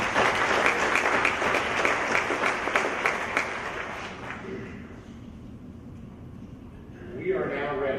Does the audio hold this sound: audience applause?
yes